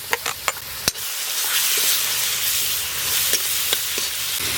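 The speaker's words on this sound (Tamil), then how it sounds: "வெங்காயம் நல்லா பச்சை வாசனை போக வதங்கிருச்சு." Onions with green chillies and ginger garlic paste sizzle steadily in a pan for a village-style country chicken gravy, with a few sharp clinks from stirring early on, then continuous frying hiss throughout.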